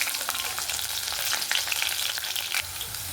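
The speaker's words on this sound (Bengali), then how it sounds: "দিয়ে দেবো একটা চেরা তেজপাতা, দিয়ে দেবো কাঁচা লঙ্কা" Split bay leaf and green chillies fry in hot oil, giving a dense, steady sizzle and crackle close to the pan, with a few small stirring clicks and no talking.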